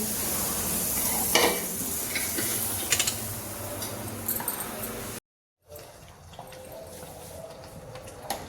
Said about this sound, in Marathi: यात थोडंसं आता पाणी घालणार आहे आणि 5 मिनिट छान उकळून द्यायचं